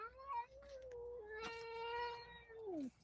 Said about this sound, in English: He's doing his very unhappy howling meows.